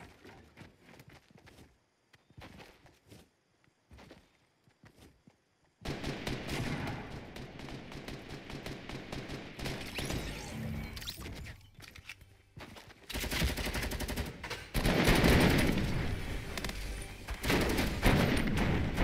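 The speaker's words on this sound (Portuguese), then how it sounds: "tiro de todo lado" Rapid bursts of Fortnite Mobile gunfire crackle from many directions, starting sparse and building into dense, continuous shooting.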